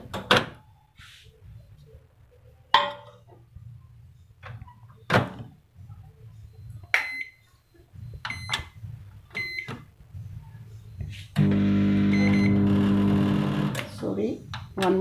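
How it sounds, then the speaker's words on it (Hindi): A microwave door clunks shut on 250 ml of water amid scattered knocks and handling noises, then the oven starts a steady humming drone, with a voice speaking briefly. "इसको मैं माइक्रोवेव में सबसे पहले रखती हूँ।"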